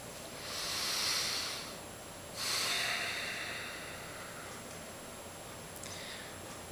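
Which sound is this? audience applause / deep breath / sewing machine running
deep breath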